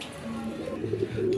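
Pigeon cooing, a soft low rolling coo that swells toward the end, heard close among a flock of fancy pigeons, including black lace satins, kept for sale.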